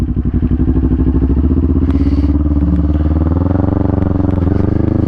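A motorcycle ridden on engine braking alone gives a close, loud, throbbing exhaust with rapid pulsing beats, the note shifting as it slows with the throttle closed.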